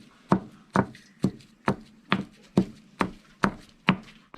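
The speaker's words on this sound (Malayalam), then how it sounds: "ഈ കറിവേപ്പില നമുക്ക് ചെറുതായിട്ടൊന്ന് ചതച്ചെടുക്കാം" Curry leaves crushed by hand in a Kerala kitchen, heard as nine evenly spaced, crisp pounding thumps close up, steady rhythm with quiet gaps between.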